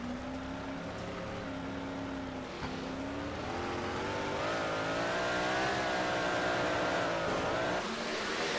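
Race cars on a short-track oval at Lake Land Speedway accelerate hard on a restart late in the race, several engines rising and layering in pitch together, loud and continuous with a crowd-like roar underneath.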